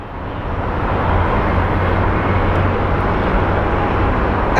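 Delta Airlines A321 airliner landing at Phoenix Sky Harbor, a loud, steady broadband engine and air roar that swells slightly and holds throughout.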